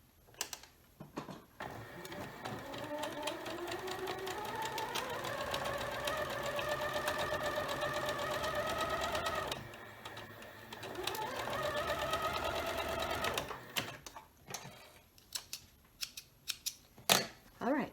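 Sewing machine stitching quilt block pieces for a scrappy border, a sustained whirring run with rising motor pitch, a short pause, then a second run, followed by scattered clicks and handling noises.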